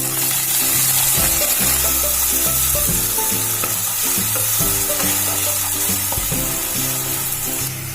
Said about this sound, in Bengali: এবার এর মধ্যে আগে থেকে যে টমেটো আদা রসুনের পেস্টটা বানিয়ে রেখেছিলাম সেটা দিয়ে দিচ্ছি।